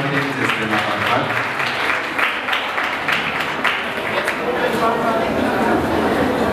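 Audience applause at an awards event honoring a winner, a dense sustained burst of many hands clapping in a hall, loud and near, with a voice talking over it.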